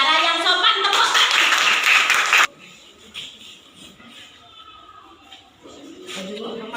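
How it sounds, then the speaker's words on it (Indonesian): A group of schoolchildren claps hands together with voices for a couple of seconds, then it stops abruptly and quieter background noise remains. "Tepuk tangan."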